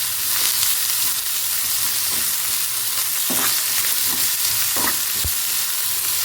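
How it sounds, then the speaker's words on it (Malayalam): Onions sauté in a pan with little oil for a chutney, giving a loud continuous sizzle broken by several sharp spatula scrapes and stirring clatters, close and without speech. "നമുക്ക് പെട്ടെന്ന് തന്നെ ഉള്ളിയൊക്കെ വഴന്ന് കിട്ടിക്കോളും"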